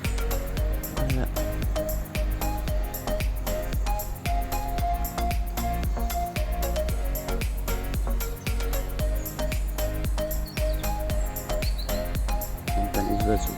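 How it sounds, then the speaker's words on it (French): Birds chirp and sing beside a river, their calls thin and scattered over a steady, loud wash of flowing water and background rumble, with no talk. "On entend les oiseaux."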